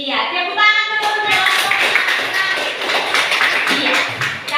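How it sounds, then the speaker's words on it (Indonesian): A class of students claps hands together after a spoken prompt, a dense burst of close, loud clapping lasting several seconds, with a voice heard at the start. "tepuk tangan dulu"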